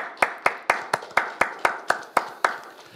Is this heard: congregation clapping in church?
yes